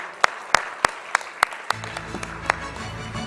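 Scattered audience applause at a Kolkata business awards evening, a handful of sharp separate claps at first, then a low murmur and shuffling under fewer, lighter claps.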